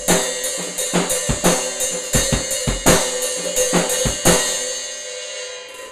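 Repeated open hi-hat strikes with the pedal released and the cymbals apart, in a steady, busy rhythm, each hit a bright washy crash that keeps ringing into the next, loud and close.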